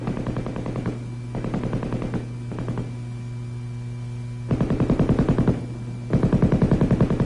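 A 7.62 mm M-60 machine gun, gas-operated and belt-fed, fires several sustained automatic bursts of rapid, evenly spaced shots, loud and close, separated by short pauses over a constant background hum.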